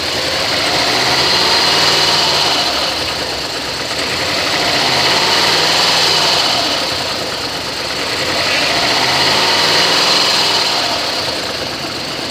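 A 2004 Toyota Sequoia with high mileage and fuel pump issues runs at idle, a steady close engine drone with a faint high whine and slow, gentle swells in loudness.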